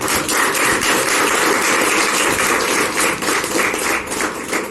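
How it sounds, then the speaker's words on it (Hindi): Congregation clapping for Jesus at a Hindi-language church prayer service: steady, dense applause filling the whole stretch at fairly loud level, without pauses. "हम लोग यीशु के लिए तो ताली बजाएंगे।"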